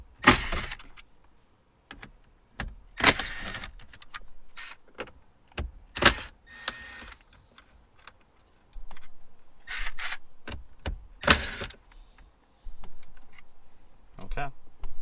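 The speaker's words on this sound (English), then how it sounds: "now, we just have to unscrew the radio itself with the 4 screws in the corners" Screws being undone from a factory radio in a Jeep JL or JT dashboard: sharp clicks, ratchety scrapes and handling knocks in scattered bursts, close up, with quiet gaps between.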